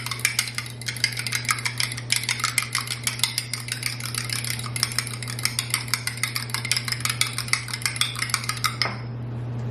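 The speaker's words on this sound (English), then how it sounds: "I'm using 2 eggs here, and with a fork I'm just gonna whisk those together." A fork whisks two whole eggs in a bowl with fast, evenly spaced clinking strokes over a low steady hum, stopping near the end.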